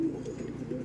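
A Madras pigeon gives one soft, low coo, brief and faint against quiet room background.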